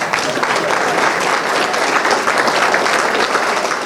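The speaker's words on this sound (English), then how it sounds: "So I can get a round of applause for you guys as well." Wedding guests at a reception clap in a full, continuous round of applause. It sounds close and lively and holds a steady level throughout.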